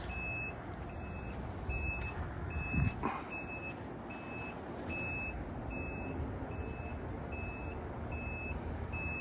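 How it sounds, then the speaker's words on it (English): A Ford F-150 Lightning camper topper lift beeps at a steady high rhythm while lowering, over a constant low mechanical hum, continuing evenly from start to finish. "And yes, it makes the beeping noise."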